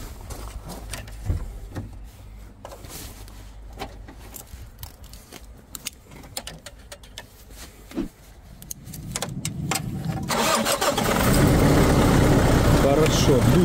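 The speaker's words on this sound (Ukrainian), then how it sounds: "Двигун у неї запустився дуже-дуже класно." A cold turbocharged car engine turns over and catches near the end, settling into a loud steady idle after a stretch of quiet clicks and handling noises.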